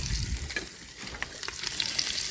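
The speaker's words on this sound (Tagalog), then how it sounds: "ang bawang naman ay papupulahin" Garlic and onion frying in a pan as a meal is prepared for workers, a dense, close crackling sizzle with stirring scrapes and small pops throughout.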